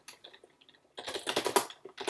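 Quick bursts of keystrokes on a computer keyboard while a terminal command is typed: a few sparse taps, a short pause, then a denser run of close, crisp clicks ending in one last flurry.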